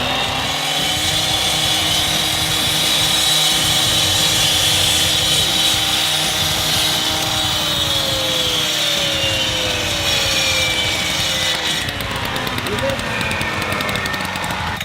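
A Husqvarna concrete saw fitted with a standard concrete blade grinds steadily through concrete, loud and close, with a continuous high whine and shifting pitch as the cut proceeds, plus a few low knocks along the way.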